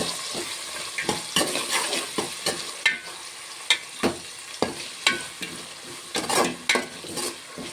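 Vegetables with mint and curry leaves fry in hot oil while a spatula stirs them, giving a steady sizzle and repeated scraping strokes against the pan, close and fairly loud with no talking.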